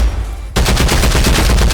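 Full-auto gunfire in the video game Contractors Showdown: after a short quiet start, a loud, rapid, evenly spaced burst of shots rattles on to the end.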